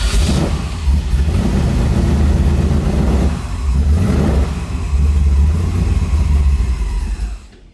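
An LS3 V8 swapped into a Nissan 350Z revs loudly and close, with two sustained throttle pulls separated by a brief dip, deep rumbling tone filling the clip before cutting off at the end.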